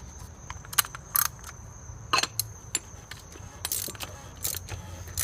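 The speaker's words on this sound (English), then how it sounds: "I'm going to screw this back on." Oil filter being screwed onto a 2007 BMW 328xi E90, a series of small, close metallic clicks and scrapes in irregular bursts over a quiet background.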